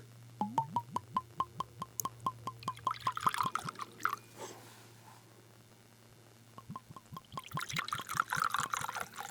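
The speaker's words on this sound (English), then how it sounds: "We do like the glug. I think I got an extra glug again." Oban Little Bay whisky poured from its bottle, giving a close, quiet run of regular glugging pulses, then a pause, then a second burst of glugs and splashing, with no one talking over it.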